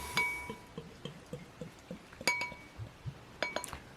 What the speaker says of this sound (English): Let's get it into the glass.